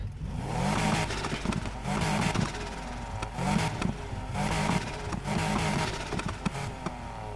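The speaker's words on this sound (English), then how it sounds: "Much deeper spool, not a very high pitched spool of the turbo, very deep, just very deep" Car engine in Need for Speed Heat revving repeatedly with a deep, low turbo spool rather than a high whine, a steady loud rumble that swells and eases in several surges with no talking.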